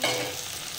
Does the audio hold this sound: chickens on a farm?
no